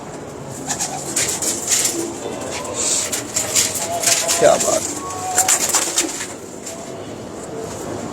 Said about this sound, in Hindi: बहुत अच्छा कबूतर है ये, अंडों पे से उठाया।